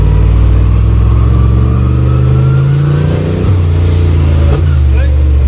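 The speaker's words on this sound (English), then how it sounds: "we're going to see if he can do a rolling 2-step and build boost and then let go of the button." A carbureted car engine on a rolling 2-step launch holds a loud, close, steady drone with its pitch slowly climbing as boost builds, no words spoken over it.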